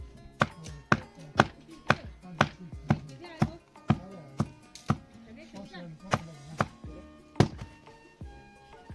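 A knife chops through a peach on a board in a steady run of sharp, close thunks, about a dozen strikes with short gaps, plus faint handling noise between cuts.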